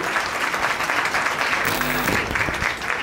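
An audience at a law college lecture event claps steadily to welcome a guest speaker, an advocate, to the stage; sustained, moderately loud applause with a brief tonal beep partway through.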